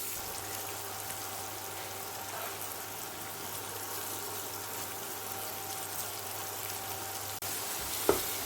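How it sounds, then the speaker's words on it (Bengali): Chopped onions sizzling in hot oil in a pan, a steady soft crackling hiss that continues throughout, close and fairly quiet, with a brief clink near the end. "এবার দিয়ে দিলাম কুচনো পেঁয়াজ"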